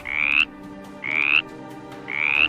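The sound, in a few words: green frog croaking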